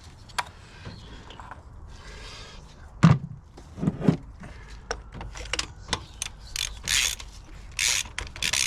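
A hand ratchet tightens spark plugs in a car engine bay, giving short bursts of clicking pawl mechanism in several separate runs, fairly close and clear, with a few louder knocks around the middle and no speech.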